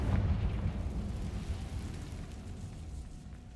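A Confringo fire spell in Hogwarts Legacy bursts with a deep rumbling boom that fades slowly over a few seconds, dense and low like a distant blast.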